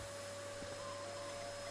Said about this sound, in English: Got a vacuum cleaner.